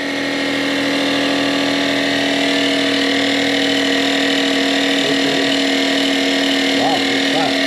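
A Slime Pro-Series garage inflation station air compressor runs loud and close while inflating a flat tire, a steady droning hum, with a voice briefly speaking near the end.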